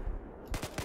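Battlefield 4 gunfire during a Rush match on Altai Range: a few sharp, loud bursts in quick succession, punching out after a brief quiet lull.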